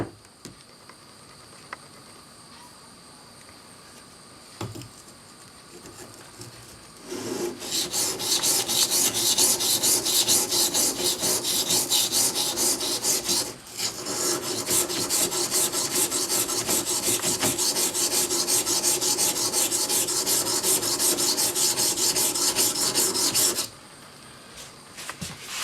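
A 1950s Record No. 4 plane blade is rubbed back and forth on a sharpening stone lubricated with chainsaw bar oil, giving a steady, close, loud rasping scrape. The scraping runs continuously for about fifteen seconds, with a brief pause midway, after quieter handling.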